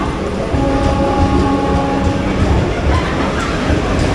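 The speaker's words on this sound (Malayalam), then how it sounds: "മഡ്ഗാവ് മാംഗ്ലൂർ സെൻട്രൽ വന്ദേ ഭാരത് എക്സ്പ്രസ് ആണ് വരുന്നത്." Madgaon–Mangalore Central Vande Bharat Express passing close by, a steady loud rumble of wheels and rail noise with faint clickety-clack throughout, no voices.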